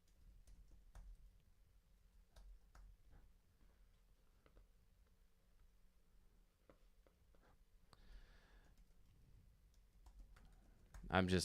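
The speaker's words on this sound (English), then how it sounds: "I'm just typing in the tracks or the things that I'm going to practice" Someone types on a computer keyboard in the Logic music program, making sparse, faint key taps in an irregular rhythm, with a denser, louder burst of clicks at the very end.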